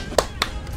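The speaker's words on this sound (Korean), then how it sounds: "아, 박수, 박수, 박수." Two sharp hand claps, close and fairly loud, spaced about a quarter second apart, followed by a fainter third clap, with no talking over them.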